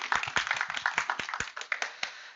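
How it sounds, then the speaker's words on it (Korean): Small audience clapping after a final project presentation at a training institute: a sparse group of distinct, separate hand claps, uneven in rhythm and fairly close, gradually thinning out. "감사의 박수"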